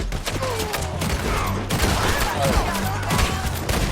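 Rapid gunfire bursts and scattered shots from a Red Dead Redemption 2 shootout near a bridge, loud and continuous across the scene, with game music and faint voices underneath.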